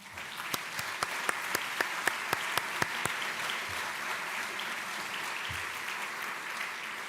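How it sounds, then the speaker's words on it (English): Conference audience clapping for a panel at a cultural heritage event, a steady moderate wash of applause with a few sharp individual claps standing out near the start, then fading slightly. "I believe the panel deserves a round of applause."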